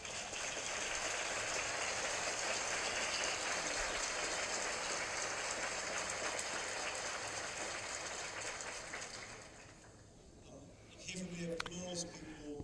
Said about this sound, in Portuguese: Pela salva de palmas